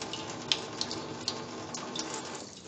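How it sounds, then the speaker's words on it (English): Water hisses and gushes steadily through the opened high side bleed valve of a backflow test kit gauge as it is purged, a continuous close rush with a few faint clicks. "I'm going to purge my gauge again by opening up the high side bleed valve"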